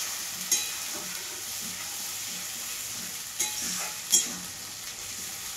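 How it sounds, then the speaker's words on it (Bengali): Spices such as cumin paste sizzle steadily in a hot pan over a cooking fire while a spoon stirs them, with a few sharp scrapes and clinks of the spoon standing out from the continuous frying hiss. "এটা একটু চালাবো।"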